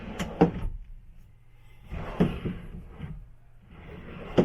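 Drawers in a 2021 Jayco Redhawk 24B motorhome slide open and shut three times in turn, each with a close, soft thud and a brief sliding rumble.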